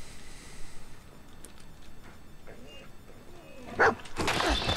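A dog barks and yips in Fallout 4 during combat, a few short barks against quiet game ambience, ending in a louder burst of action noise.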